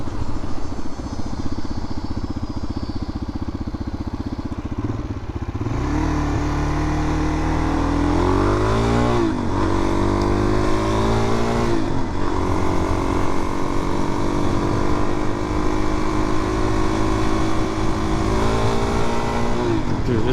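A 2022 Suzuki DRZ400 dual-sport motorcycle ridden hard, its single-cylinder engine revving up through the gears with rising pitch sweeps, loud and close from the rider's position, wind noise constant throughout.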